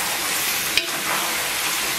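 Seasonings sizzle steadily in hot pork fat inside a pot, a loud, continuous hiss with one brief clunk early on and no speech.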